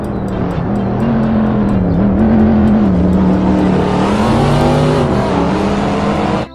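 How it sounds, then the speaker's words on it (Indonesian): A toy race car gives off a loud, continuous revving engine sound whose pitch rises and dips, with hints of tire squeal, before cutting off abruptly at the end; no talking. "di sini ada mobil balap"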